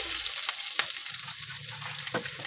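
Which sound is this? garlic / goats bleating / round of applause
garlic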